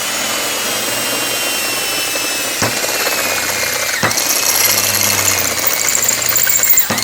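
A drill cuts a 3/8 inch hole in a metal bracket for a 1965 Thunderbird convertible quarter window, a loud, continuous high whine with a couple of brief catches as the bit bites.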